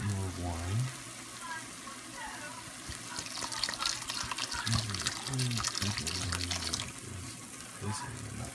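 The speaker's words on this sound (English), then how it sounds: "at this point, I'm going to add a little bit more wine" Wine poured into a pan of mushroom risotto as it is stirred, a steady watery splash and bubbling at close range, with a voice talking over it for the first part.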